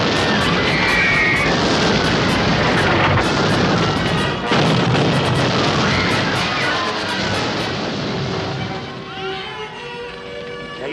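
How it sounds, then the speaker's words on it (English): Heavy artillery from the 1963 Boxer Rebellion film 55 Days at Peking fires in a loud, dense barrage of booms and blasts over a roaring battle din, easing slightly toward the end. "They're using the big guns now."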